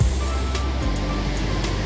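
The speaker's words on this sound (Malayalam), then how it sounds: "തൊട്ട് സൈഡിലെ വെള്ളച്ചാട്ടത്തിൻ്റെ സൗണ്ടും" Steady rushing water from a waterfall right beside a walking path at Meenpidipara near Kottarakkara, a continuous broadband roar filling the whole short stretch with no voices.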